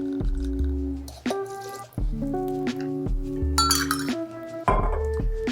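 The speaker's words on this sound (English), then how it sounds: "let's go ahead and use our jigger so you can see more or less what you're supposed to do" Glass clinking as bourbon is measured with a jigger for a Gold Rush cocktail: several close, bright, ringing clinks with sustained tones and short pours between.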